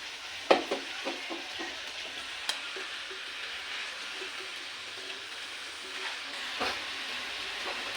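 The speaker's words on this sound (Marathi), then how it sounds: "आपण आता मेथीची भाजी कढईत घालून घेऊया" Fenugreek leaves fry in a kadhai with a steady soft sizzle, broken by scraping stir strokes and a few sharp clicks of the spatula against the pan, with no talking.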